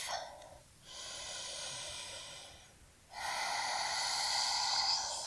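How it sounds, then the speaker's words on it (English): Two long, breathy inhale-exhale sounds during a yoga flow, close and clear, separated by a brief pause, with no talking. "Take one more breath."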